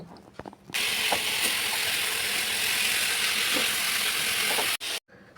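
Chilli and tomato paste sizzling steadily in hot oil for a fish curry, with scraping stir strokes across the pan, loud and continuous with no talking.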